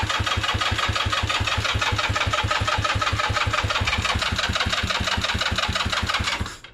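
A scooter engine on a weak battery cranks over in a long, even run of rapid, loud rhythmic chugs without catching, then winds down abruptly at the end; close, no talking.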